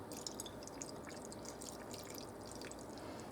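Pickling liquid for beets pours steadily into glass canning jars, a quiet, continuous trickling and splashing with no talk over it.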